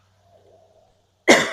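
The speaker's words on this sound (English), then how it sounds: "sorry guys, I have to keep coughing" One sudden, close cough from a person bursts out after near silence with a faint low murmur, sharp and loud at the end of the clip.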